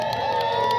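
A crowd at a lumberjack sawing competition cheers for a contestant, with steady shouting and whoops carrying loudly throughout with no break.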